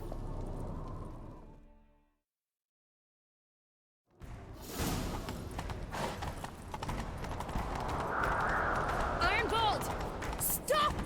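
A horse gallops in The Witcher 3, with rapid, close hoofbeats starting after a brief silence and running on with rushing motion and voices mixed in.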